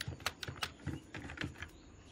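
Keystrokes on a computer keyboard while HTML code is being written, a dozen or so separate, fairly close clicks in an uneven rhythm with brief pauses between bursts, no voices.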